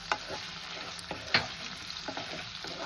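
Prawns for a pepper fry crackling in a hot pan, an even close sizzle with occasional sharp pops and utensil scrapes, no talking.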